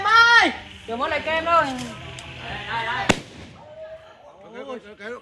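A homemade Tết firecracker gives a single sharp, loud pop midway through, while people talk excitedly around it.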